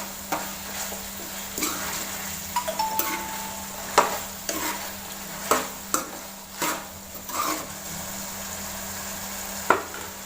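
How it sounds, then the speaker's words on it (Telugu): Chicken curry being stirred in a pan, with repeated scraping and clacking strokes against the metal and a light sizzle beneath, close and moderately loud with no talking. "ఈ విధంగా చికెన్కు కలిపేలా తిప్పుకోవాలి."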